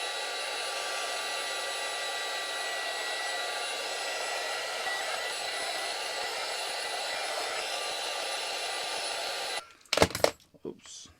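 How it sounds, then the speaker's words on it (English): Heat gun blowing hot air onto an iPad 6th generation screen, a steady loud whooshing hum running continuously before cutting off, followed by a few faint handling clicks. "star of the show, the heat gun. So I'm just going to heat up the iPad."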